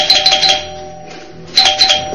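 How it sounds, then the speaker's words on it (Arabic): A doorbell rings twice, loud and close: a bright chiming burst, a short pause, then the same chime again. "رن جرس الباب."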